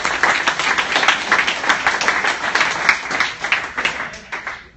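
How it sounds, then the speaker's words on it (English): A room of people at a growth hackers meetup clap after a presentation, a lively burst of dense applause close by that holds steady and then tapers off in the last second. "Let's give a round of applause to Sosa."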